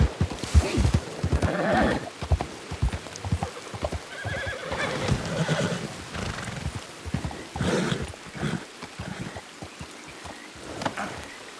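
A horse in a Western roleplay video game neighs and whinnies up close while hooves clip-clop in irregular bursts, the animal sounds loud and alone without talk.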